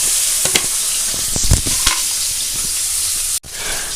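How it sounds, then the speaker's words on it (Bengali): Fish tail pieces coated in salt and turmeric frying in a wok, loud close crackling sizzle throughout with a few sharp spatters and a momentary dip near the end. "লেজের যে মাছগুলো সেগুলোকে আমি একটু নুন হলুদ মেখে সুন্দর করে ভেজে নেব"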